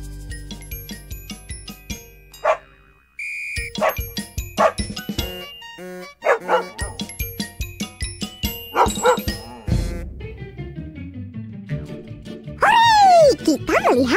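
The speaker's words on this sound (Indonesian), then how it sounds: "Hore, kita melihara guguk." A small dog barks in several yappy bursts amid bright chiming music and cartoon sound effects, with voices speaking throughout.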